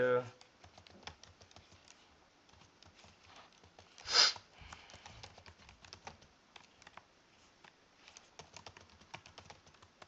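Close, quick keystrokes on a computer keyboard as an email address is typed, a rapid irregular patter of soft clicks that stops briefly for one louder burst midway.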